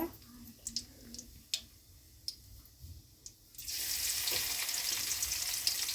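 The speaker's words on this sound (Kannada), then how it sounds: "ಎಣ್ಣೆ ಕಾದೈತ್ರಿ ಅದಕ್ಕೆ ಜೀರಿಗೆ ಹಾಕ್ತೇನೆ ನೋಡಿ" Cumin seeds drop into hot oil and burst into a loud, dense sizzle after a few seconds of quiet ticks and clinks, the crackle staying close and steady to the end.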